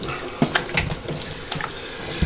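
Running water from a tap splashes steadily as a Maine Coon cat is rinsed in a bath, with a few louder splashes and spatters over the continuous flow.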